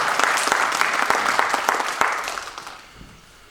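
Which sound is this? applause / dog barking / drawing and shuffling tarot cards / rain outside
applause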